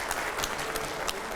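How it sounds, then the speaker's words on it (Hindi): Brief burst of loud audience applause at a televised education discussion, dense clapping filling the whole moment with no voices over it. "तालियां हो जाए जोरदार"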